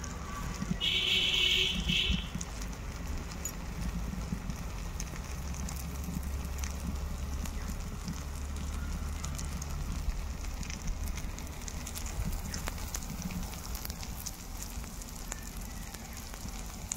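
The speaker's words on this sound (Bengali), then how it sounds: "আলু সুন্দর কষানো হয়ে গেছে।" Potatoes sautéing in hot oil in a pan for a fish curry give off a steady, soft sizzling hiss throughout, fairly close and continuous with no talk.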